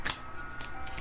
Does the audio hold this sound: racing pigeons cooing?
no